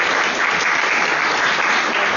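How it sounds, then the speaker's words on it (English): Dense applause from a crowd, a steady wash of clapping at even loudness throughout, with no voices standing out. "You clap now, but later."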